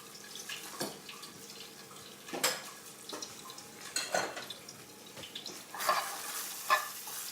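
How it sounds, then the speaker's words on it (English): Broccoli and garlic stir-fried in a pan: a steady close sizzle with repeated scraping and tossing strokes at an irregular rhythm, and no talking. "And now we can just get this moving in the pan for a couple of minutes."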